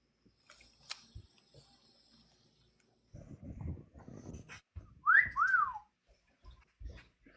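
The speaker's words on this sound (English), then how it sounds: "Now you got my dogs." Dogs make short whimpering and whining sounds with a rising and falling whistle-like cry, scattered bursts amid quiet gaps and some low rustling nearby.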